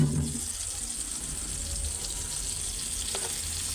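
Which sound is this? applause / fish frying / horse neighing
fish frying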